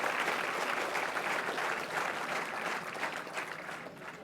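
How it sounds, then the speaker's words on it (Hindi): Sustained applause from an audience at a National Cadet Corps event greeting minister Ramdas Athawale, a dense, even wash of clapping that holds steady throughout and tapers only slightly near the end. "एक बार ज़ोरदार तालियां माननीय राज्य मंत्री रामदास अठावले जी के लिए।"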